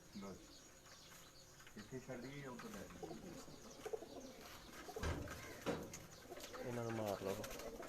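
Pigeons coo softly in repeated low, rolling calls on a rooftop during a pigeon-flying competition in Kharian, with voices and other background noise around them.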